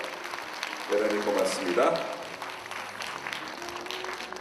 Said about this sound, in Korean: 큰 박수로 함께 해주십시오.